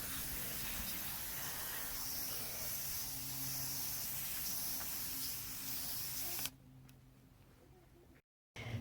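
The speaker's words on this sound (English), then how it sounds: "I'm just going to take a gentle mist and go over the tops of these here" A spray bottle gives a gentle, steady mist of water over freshly planted squash seeds in soil, a soft continuous hiss that runs for several seconds and then cuts off abruptly.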